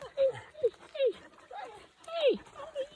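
A dog whimpers in a series of short, high-pitched whines and yelps close by, several times over a few seconds, mixed with quiet background sound.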